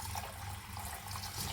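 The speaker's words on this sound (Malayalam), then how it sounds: "ഇത് നമുക്ക് ഒരു 10-15 മിനിറ്റ് ഒന്ന് വെള്ളം ഒഴിച്ച് കുതിർക്കാനിടാം" Water is poured over barley grains to soak them, a brief steady splashing stream heard close but faintly.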